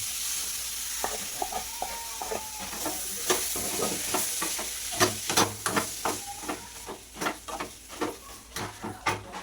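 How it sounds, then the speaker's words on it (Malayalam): Tomatoes fry in a hot pan for tomato chutney, giving a steady soft sizzle broken by repeated sharp scraping taps of a spoon stirring, close and fairly quiet, with no talking. "നമുക്ക് തക്കാളി ചേർത്ത് കൊടുക്കാം."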